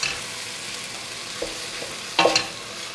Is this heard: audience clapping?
no